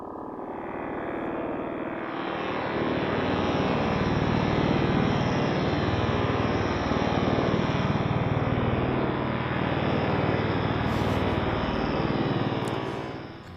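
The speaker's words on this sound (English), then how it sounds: "And cyborg drone." A cyborg drone preset from the Triumph Audio Short Wave synth plugin, a dense, loud, sustained roar resembling aircraft engine noise with a bright upper band, swelling in after a couple of seconds and holding steady alone throughout.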